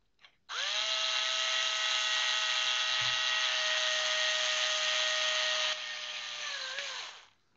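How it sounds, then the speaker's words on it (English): A screw is driven with a power driver to fix a servo onto the leg of an open-source, 3D-printed humanoid robot: one steady, loud motor whine that runs for about seven seconds, then winds down near the end. "the next step is to use this screw here to fix the servo on this side"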